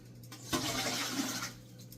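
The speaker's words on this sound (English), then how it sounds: "So I'm going to put my water in." Water pours into an electric canner for pickling squash, a short rushing splash that starts abruptly, holds steady and eases off, close and alone over a low hum.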